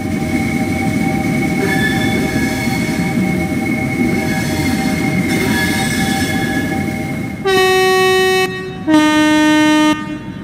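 A Southern Class 377 Electrostar electric train in Train Sim World 2 rumbles steadily with a whining motor tone, then gives two loud, bright two-tone horn blasts near the end.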